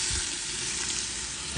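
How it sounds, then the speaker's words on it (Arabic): Onions fry in hot oil for a red kabsa, giving a loud, dense, unbroken sizzle that stays close and even throughout. "زيت ودحين بننزل البصل."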